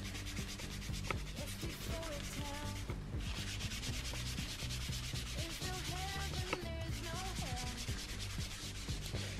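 Steady, continuous scrubbing of a rust stain on a quartz surface, close and fairly quiet, with rhythmic rubbing strokes and no talking.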